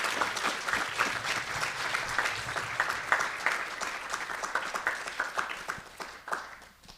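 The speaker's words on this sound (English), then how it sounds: "Round of applause." An audience at a spiritual memorial gathering applauds in a steady, dense wash of many hands clapping at once, fairly soft and distant, tapering off toward the end.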